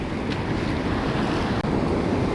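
Ocean surf crashing on the Oregon coast on a fine day, a steady loud roar of breaking waves with wind buffeting the microphone throughout, no voices.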